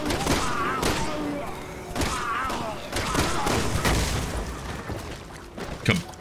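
Dynamite goes off in the video game Resident Evil 6, producing a burst of booming, crackling blasts and thumps that layer over one another and then fade, with a sharp hit near the end.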